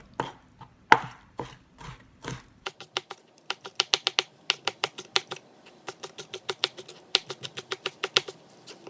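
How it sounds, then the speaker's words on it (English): A knife mincing tiger prawns on a board for wonton filling, starting with a few spaced chops and then speeding into a rapid, crisp, evenly spaced run of close taps. "I'm gonna mince it up and I'm gonna mix it with the pork"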